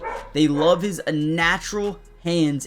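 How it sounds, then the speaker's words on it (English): A dog barks in the background while someone talks steadily over it, the barks partly buried under his voice. "I know you guys can probably hear my dog barking."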